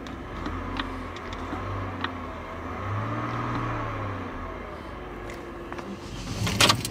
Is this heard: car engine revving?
yes